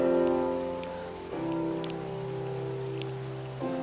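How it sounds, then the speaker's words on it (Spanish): Heavy rain falls steadily outdoors, a soft continuous patter blended with a droning hum, with no talking. "Pero sí está lloviendo horrible."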